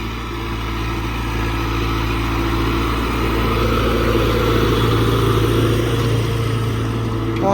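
MTZ 892 tractor pulling a PLN 3-35 plough through heavy soil, a steady loud droning diesel engine with a constant low hum, no talk.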